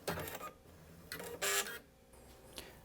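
Stepper motor of a Singer Quantum Stylist 9960 sewing machine driving its thread cutter, giving a few short, close mechanical whirring bursts separated by quiet gaps, with no talking.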